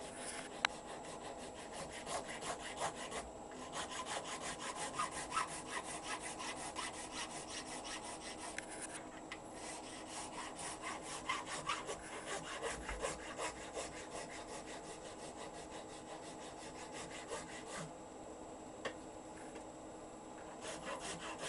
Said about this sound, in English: now following the line he put on with a round file, quite a coarse round file,